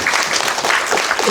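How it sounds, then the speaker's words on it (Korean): Audience applause at a Korean film event for the movie 만분의 일초, a brief, steady wash of clapping from a crowd, close and fairly loud throughout. "박수 한번 부탁드립니다"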